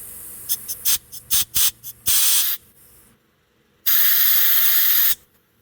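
Compressed air blasts through a tiny circuit in a Craftsman T1000 carburetor: several short, sharp hissing spurts followed by two longer, loud sustained bursts, with brief quiet gaps between them.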